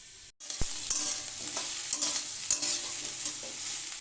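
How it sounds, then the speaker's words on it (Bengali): Bitter gourd, potato and carrot stir-fried together for Bengali korola chorchori, a steady sizzle with a spatula scraping and stirring in short repeated strokes, close and continuous with no talk. "গাজর দেওয়ার পর আরও 2-3 মিনিট কষিয়ে নিলাম উচ্ছে আলু গাজর একসাথে।"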